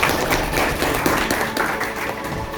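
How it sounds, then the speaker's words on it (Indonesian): Audience applause at a school Pancasila talk, a dense continuous patter of many hands clapping throughout, moderately loud and close, with no talk over it. "tepuk tangan dulu semuanya"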